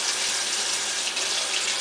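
A kitchen tap runs hot water for a cup while beef stroganoff is being made, a steady close hiss and splash of flowing water that holds without a break and has no talk over it.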